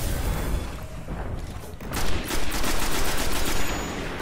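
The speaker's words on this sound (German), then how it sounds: "Oh, oh, er schießt wieder. Er schießt wieder." Enemy gunfire in the video game Destiny, bursts of rapid automatic shots with booming impacts, loud and dense and sustained over a continuous game soundscape.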